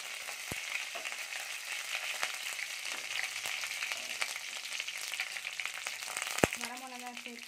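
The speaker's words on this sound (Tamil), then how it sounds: "கடுகு போடணும், கடுகு" Mustard seeds spluttering in hot oil for a semiya dish, a dense crackling fry with sharp pops scattered throughout and one loud snap near the end, close up.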